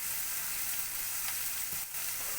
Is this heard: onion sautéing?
yes